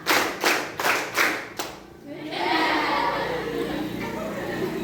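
A group of students claps in unison in a classroom rhythm exercise: five crisp, evenly spaced claps, followed by a murmur of crowd chatter.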